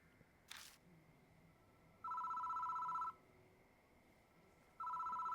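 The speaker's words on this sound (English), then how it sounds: "The phone rings." A telephone rings in the Deathmark video game, two long electronic trills with a pause between, fairly faint against quiet background hiss, with a brief click before the first ring.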